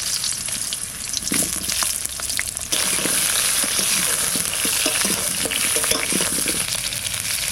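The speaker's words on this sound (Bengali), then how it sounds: "এবার আলুটা একটু ভেজে নেবো সর্ষের তেল" New potatoes fry in mustard oil for a village-style duck curry, a loud steady sizzle that jumps up sharply partway through, with scattered utensil scrapes and stirring, no talk.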